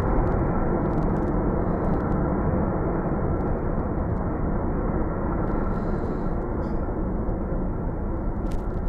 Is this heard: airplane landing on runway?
yes